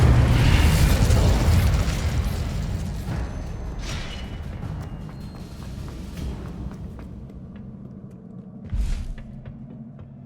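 Booming spell blasts from Hogwarts Legacy, the Confringo fire spell during a Pensieve Guardian boss fight, rumble loudly and densely at the start, ease into a steady roaring wash, then swell with one more burst near the end.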